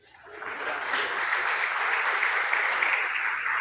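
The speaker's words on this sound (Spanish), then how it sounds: "Dame un aplauso" A church congregation breaks into applause, swelling over the first half-second into a loud, steady roar of clapping that carries on evenly to the end.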